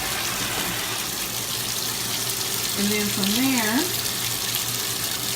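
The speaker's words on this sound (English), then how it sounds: "just let the clothes fill up with water, close the top, and let it run its cycle" A top-loading washing machine fills with water over newborn clothes and fabric softener, a steady rushing hiss throughout, with a brief spoken phrase partway through.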